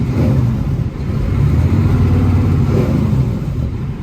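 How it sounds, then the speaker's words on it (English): A diesel truck with a turbo and engine brakes, its low, throaty rumble steady and loud inside the cab for the whole stretch, with no talking. "Oh yeah, it has engine brakes."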